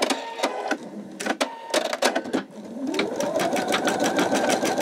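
A Pfaff Creative 4.0 embroidery machine stitching letters at mid speed. It opens with sharp clicks and taps, then settles into a steady, close, continuous mechanical hum with no talk.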